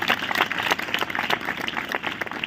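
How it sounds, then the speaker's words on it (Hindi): Church congregation at a revival gathering clapping loudly in thanks, a dense, fast crowd of hand claps filling the room without pause. "जो समझ रहे हैं ताली बजा के जोरदार प्रभु को धन्यवाद दीजिए।"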